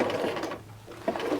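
A sewing machine back stitches over a garment hem facing seam, a close steady mechanical whir that dips briefly midway and then resumes.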